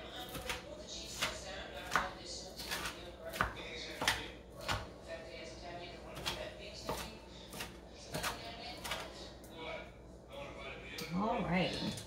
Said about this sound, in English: I already kind of gave it a rough chop. But now we're gonna chop it up some more.